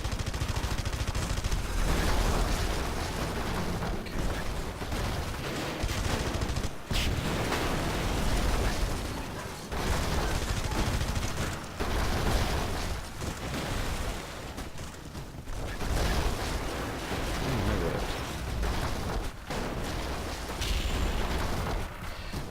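Sustained automatic M16 rifle fire in Red Faction Guerrilla, loud and dense bursts rattling almost continuously with only brief gaps, heavy explosive rumble mixed underneath.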